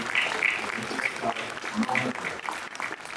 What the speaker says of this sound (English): a big round of applause for the kids under 19